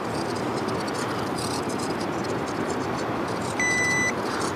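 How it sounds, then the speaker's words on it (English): A single clear electronic beep from a Potensic D60 drone transmitter during compass calibration sounds near the end over steady outdoor background noise. "Just rotate this around, and the transmitter will beep"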